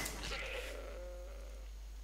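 A sheep in the Skyrim video game gives one drawn-out bleat over a steady low background hum, fairly faint and alone, with no voices.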